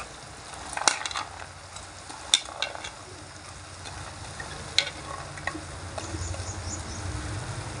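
Boiled sprouts are stirred into a tomato curry in a pan, giving quiet, intermittent scraping and clicks over a faint low sizzle, with no talking.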